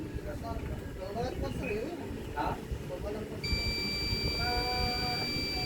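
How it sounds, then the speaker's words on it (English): A multimeter in continuity mode gives a steady high-pitched beep, starting partway through and holding continuously, marking a short circuit in a TV's power supply, over a noisy background of rumble and indistinct talk. "A long beep means a short circuit."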